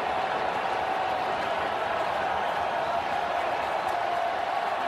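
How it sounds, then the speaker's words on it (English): Crowd at a 2022 NL Wild Card baseball game between the Phillies and Cardinals in the bottom of the sixth, a dense, steady roar of cheering and clapping throughout, loud and continuous. "Listen to this crowd."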